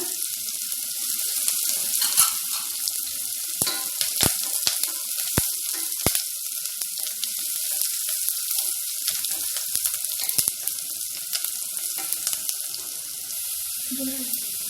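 Steady hiss of chopped onion frying in hot oil for a tempering, a continuous sizzle with a few sharp pops and crackles, close by, no talking.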